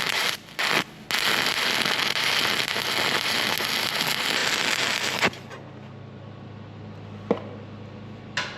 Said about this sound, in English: I'm in the process of welding this bracket.